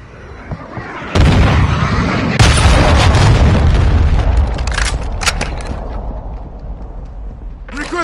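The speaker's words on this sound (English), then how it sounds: "Hostiles launched a cruise missile." Cruise missile explosion in a Call of Duty video game, a loud sudden boom followed by a second blast and a long rumbling roar that slowly fades, with combat chatter underneath.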